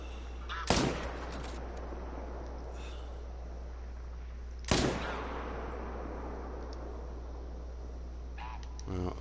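Two loud rifle gunshots ring out several seconds apart in the hunting video game theHunter: Call of the Wild, each followed by a long rolling echo over a steady low background hum.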